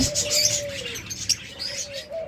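Doves cooing close by, a couple of soft low drawn-out coos with light chirps and tweets from other birds over them.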